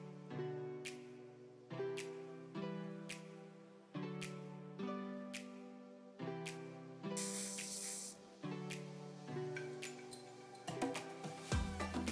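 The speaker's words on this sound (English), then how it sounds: "I'm going to use this ebony spray, the red ebony spray, to just spray." A short hissing spray burst of red ebony hair spray stands out over steady rhythmic background music.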